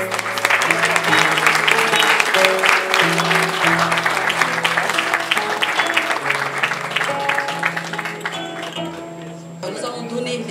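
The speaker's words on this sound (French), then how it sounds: "Sous vos applaudissements" A crowd claps steadily and loudly at a youth talent program launch ceremony, the sustained applause running throughout with a voice and background music mixed in, easing slightly near the end.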